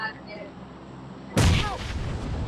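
A bomb goes off in the BGMI battle royale game: a sudden loud, booming blast after a quieter stretch, with rumbling debris trailing off afterward.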